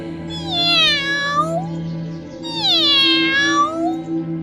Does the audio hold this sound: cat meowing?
yes